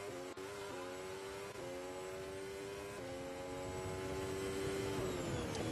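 Kimi Räikkönen's Formula 1 car in qualifying for the 2016 Monaco Grand Prix at Rascasse, a loud, close, high-pitched engine whine with gear shifts stepping the pitch as it accelerates, steady throughout.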